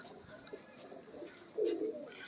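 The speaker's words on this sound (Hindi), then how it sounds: "इन कबूतरों का नाम बादशाह है" Badshah pigeons give a few soft coos nearby, capped by one louder rolling call near the end, over a faint background murmur.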